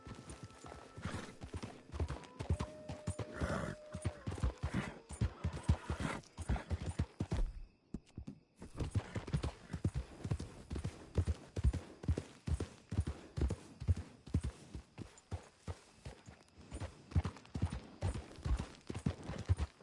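A horse's hooves clip-clop steadily as it is ridden at a walk, a continuous close rhythm of hoofbeats with a brief quiet gap partway through and occasional faint voices.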